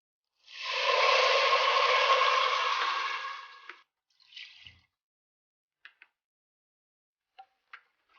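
Water is poured from a cup into measured rice for Sri Lankan pilau, about one and a half cups of water per cup of rice. A close, steady pour lasts about three seconds, followed by a few scattered drips and clinks.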